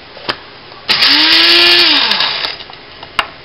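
A coffee grinder grinds coffee beans in one loud, close burst of about a second and a half, its whirring motor rising and winding down, bracketed by brief clicks.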